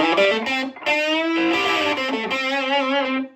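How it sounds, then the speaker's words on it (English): Electric guitar played through a VHT Special 6 Ultra amp fitted with a Hammerhead distortion mod at a higher capacitor value, giving loud, sustained, harmonically rich distorted chords and notes with brief breaks, close and alone. "So it lets you fill up the tone with a little more musical type distortion."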